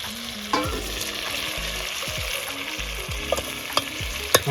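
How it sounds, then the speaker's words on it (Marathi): Chicken curry is stirred in a pot over a wood-fired stove: repeated scraping spoon strokes against the metal over a steady sizzle, close and clear, with no talk. "आपण भाजी बघू, एकदा मिक्स करून घेऊ"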